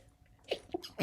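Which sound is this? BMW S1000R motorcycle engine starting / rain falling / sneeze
sneeze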